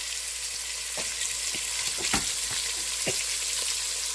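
Ash gourd pieces dropped into a hot, sizzling tempering for pumpkin sambar give a steady loud frying hiss, broken by several sharp crackles and stirring clicks.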